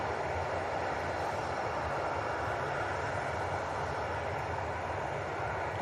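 Airplane departing Manchester Airport for Brussels, a steady, broad jet engine roar heard from a distance, holding evenly throughout without voices.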